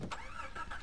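Car engine starting in the Far Cry 3 Blood Dragon video game, a short burst of engine cranking and catching that stays fairly loud and close through the brief moment.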